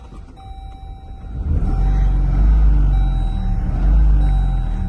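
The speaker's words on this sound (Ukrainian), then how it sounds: "Заводиться, але він двигун підтроює в цьому автомобілі." A 2021 Chrysler Voyager LX minivan engine turns over and settles into a loud, close, uneven idle, its low rumble wavering with a rough, shaky pulse from a misfire.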